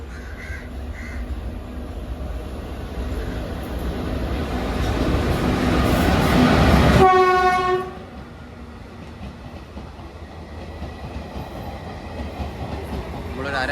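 A train passing a station, loud rumbling and clatter that swells and then cuts off, followed by a long steady horn blast. Crows caw nearby.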